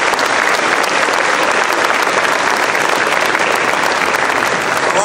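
A school keynote audience at Church Farm School gives a welcome with steady, dense applause from many hands, loud and continuous throughout with no pauses.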